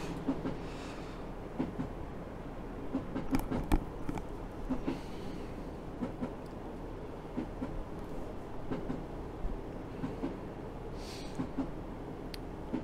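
A London Overground train running in a train-driving video game, a steady rumbling drive with rhythmic wheel clicks and occasional sharper clacks, continuous and moderately loud with no talking.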